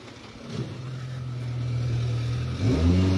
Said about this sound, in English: Ross has had a wee bump there in the front of the car